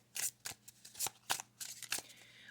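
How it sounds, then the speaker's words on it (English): A deck of oracle tarot cards is shuffled by hand, giving six or seven quick, crisp papery riffles in an irregular rhythm, close and fairly quiet with no talking. "I'm going to shuffle them"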